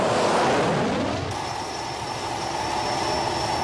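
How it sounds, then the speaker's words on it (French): Failing fighter jet engine in a 1988 French action film: a loud, broad roar that begins heavy and gradually thins, with a steady high whine running through it and no voices. "Le moteur lâche, faut vraiment que je me pose."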